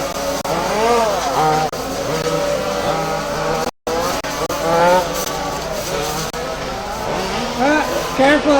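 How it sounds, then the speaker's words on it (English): Race cars lap a rally track in the RAMS 2026 FG Supply Championship Series Rally A Main, engines revving and rising in pitch as they pass, under a steady stream of loud commentary. "81 pace for Fernando, 81 lap on track for Egypt"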